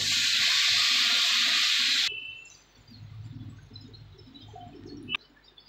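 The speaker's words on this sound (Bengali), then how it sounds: "এবার আমি এর মধ্যে 2 কাপ জল দিয়ে দেবো।" Two cups of water poured into spices for butter paneer, a bright rushing splash for about two seconds that then cuts off, leaving quiet kitchen background.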